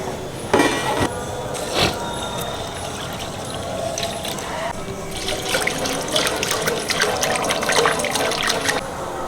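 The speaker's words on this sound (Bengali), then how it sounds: "এবার ডালটা ধুয়ে বসিয়ে" Lentils being rinsed in water for a banana-flower dal, with running water, splashing and sloshing close by, several sharper knocks and bumps near the start and a busier spell of swirling toward the end.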